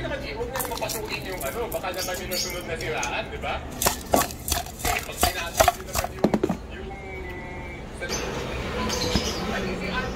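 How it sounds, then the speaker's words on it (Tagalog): A knife slicing cabbage on a cutting board while fish is being prepared: a quick rhythmic run of crisp, close chopping taps in the middle, with a person talking before and after. "hiwain ko lang yung gulay"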